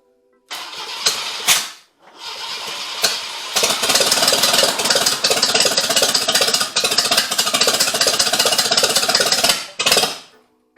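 An old Jeep CJ engine cranks briefly, cuts out, then fires up and runs with a loud rapid clattering idle before shutting off, close by with no speech.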